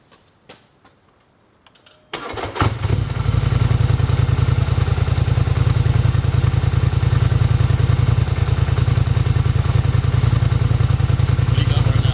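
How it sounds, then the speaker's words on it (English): A 2018 Polaris Sportsman 1000 XP ATV fitted with a Big Gun EXO slip-on exhaust starts after a quiet moment of handling noises, then runs loud and close with a steady, rapidly pulsing engine note. "I'm gonna go and rev up the ATV"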